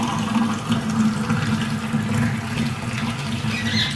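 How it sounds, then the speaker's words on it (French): Hot water pours steadily into a drinking glass for a liquid density experiment, a continuous close splashing and gurgling fill with no break or speech. "Nous allons recommencer l'expérience en mettant de l'eau chaude dans un verre."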